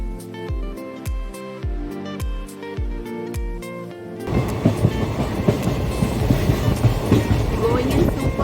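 A train leaving a railway station rumbles along with rhythmic clacking wheels at first, then a louder, dense roar of motion and rushing noise takes over.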